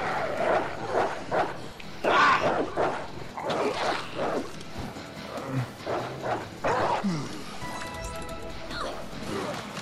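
A dog barks repeatedly in the Resident Evil Resistance video game, sharp barks and yips in quick bursts over game noise, crashes and a player talking.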